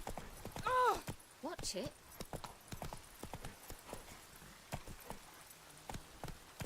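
The horse Roach trots in a video game, its hooves clip-clopping in a steady rhythm with a short whinny near the start, while a person speaks briefly.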